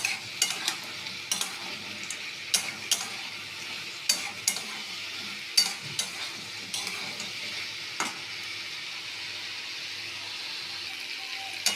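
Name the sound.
stir-frying fried cauliflower with spices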